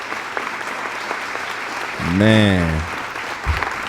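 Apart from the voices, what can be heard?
audience applause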